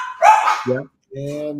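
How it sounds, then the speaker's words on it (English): Dogs bark at someone at the door, two or three quick loud barks close by, with a person speaking briefly over the start. "the dogs are barking at someone at the door"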